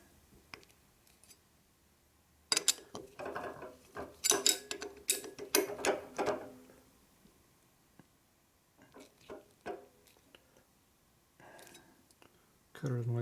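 A valve seat cutter works by hand on a 1958–1960 Harley-Davidson Panhead cylinder head, giving scattered bursts of close, gritty scraping and ratcheting clicks between quiet pauses.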